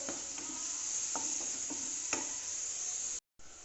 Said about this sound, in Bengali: এবার একটু এটা ভাজা ভাজা হোক